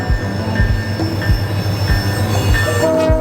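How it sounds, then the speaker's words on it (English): A passenger train arrives at Moncton station in New Brunswick, loud and close, with rhythmic clunks of wheels over rail joints, squealing wheels and metallic screeches, and no talk. "Train just arrived."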